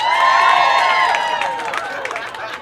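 A comedy club crowd at a stand-up show cheers and whoops with some clapping, a loud mass of raised voices that fades and breaks into scattered claps.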